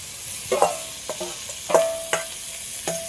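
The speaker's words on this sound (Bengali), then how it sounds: "তবে একসাথে ভালো করে একটু কষিয়ে দেবো" A fried fish head stirred through spice masala in a pan, with several distinct utensil scrapes and clanks against the pan over a soft, steady sizzle.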